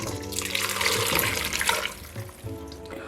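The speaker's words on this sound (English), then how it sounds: "Add about 4 cups of hot water" Hot water poured into a pressure cooker, a gurgling, splashing stream that fills the pot with a rising tone, tapering near the end before a brief final splash.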